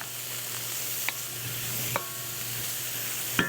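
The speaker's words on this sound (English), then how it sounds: "I'll just make sure I take my nice wooden spoon there and start stirring" A wooden spoon stirs a chicken stir-fry in a hot pan, with a steady frying sizzle throughout and a few soft scraping knocks from the spoon, close up and with no talking.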